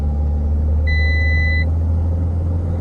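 A Mahindra XUV500 engine drones low and steady while the SUV is driven, a constant close hum with a brief high electronic beep sounding partway through.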